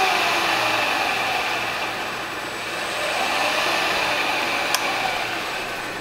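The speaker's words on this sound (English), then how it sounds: "I can turn it on, get my spindle going, and increase my hertz" A shop milling machine's spindle motor runs on a VFD as its frequency is raised: a steady, fairly loud whirring hum with a thin high whine that holds throughout and swells slightly midway.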